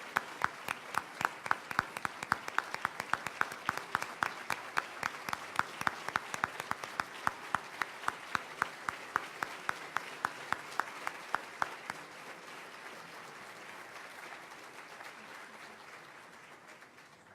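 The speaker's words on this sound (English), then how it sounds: "please give another round of applause for our 2019 Louisiana Young Heroes" Audience at a banquet applauding in a sustained burst of clapping, sharp individual claps standing out at first before settling into a steady wash that tapers off near the end.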